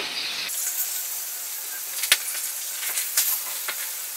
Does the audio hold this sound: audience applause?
no